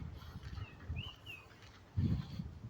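Tropical birds along a nature trail give a few faint, thin whistled calls, heard from a distance over the hum of the outdoor surroundings.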